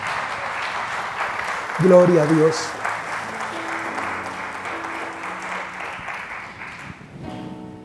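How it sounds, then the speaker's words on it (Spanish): Congregation applauding in a church, a steady wash of clapping that swells briefly then continues under a spoken exclamation and background voices. "¿Acaso él no merece el aplauso?"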